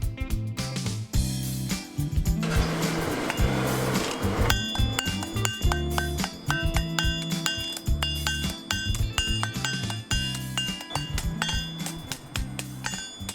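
Iron hammers ring out in a traditional blacksmith forge run for three generations, where sickles are made: a long series of sharp metallic clinks and strikes, some rhythmic, with bright ringing overtones, close and continuous without speech.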